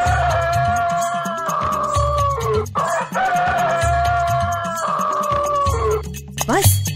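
A rooster perched on a rooftop crows loudly several times in close succession, the long calls rising and holding, with backing music and other fowl clucking underneath.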